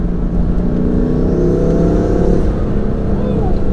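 A BMW M3 F80 with new intakes, its engine droning loud and close as the turbo spools with a rising whistle over a steady rumble, heard without talk.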